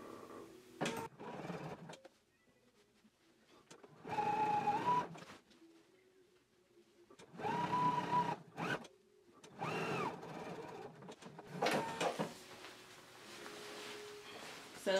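Several short runs of a sewing machine stitching bias tape onto a seam of an anorak, each burst separated by quiet pauses, moderately loud and close.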